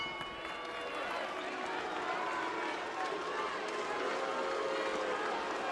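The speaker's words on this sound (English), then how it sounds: "Crowd is restive in Memphis." A restive boxing crowd in a Memphis arena gives off a continuous, fairly loud roar of murmuring voices and scattered shouts that holds steady throughout.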